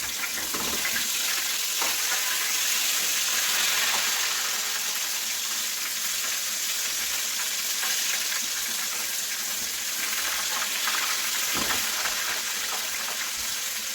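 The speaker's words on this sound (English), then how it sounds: "I'm gonna let those fry, and I'm gonna turn them one time" Doughnut fritter batter scoops frying in hot oil, a steady, loud bubbling sizzle that continues without pause, with no talking.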